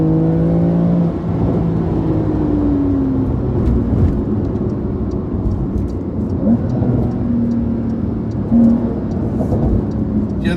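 Porsche 911 Carrera S engine pulling hard through gear changes, a steady loud mid-range drone with rising tones that drop at each shift, heard from inside the car with no talk.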